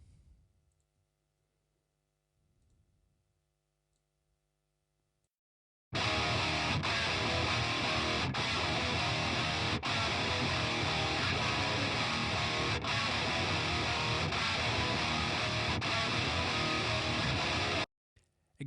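Guitar played through Marshall and THD cabinets combined, each miked with a 57 and a 41, in a dense, loud, saturated wall of sound with periodic rhythmic hits, entering after several seconds of near silence and stopping sharply before the end.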